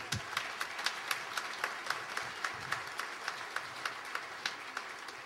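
A church congregation claps in a steady, evenly paced rhythm, a small group's sharp claps repeating at a quick regular beat with no talk over them.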